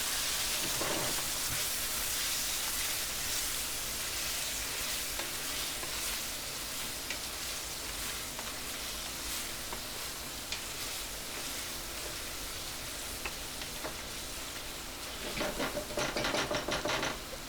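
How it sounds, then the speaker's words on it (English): Beef with dark soy sauce, spring onion whites and a stock cube fries in a pan with a steady, close sizzle, occasional stirring scrapes and a brief louder burst near the end. "and then fry this for about 4 to 5 minutes"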